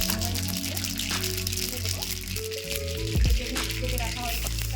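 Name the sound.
mustard seeds spluttering in hot oil with dried red chili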